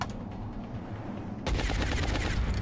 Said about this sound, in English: Shoot that guy, please.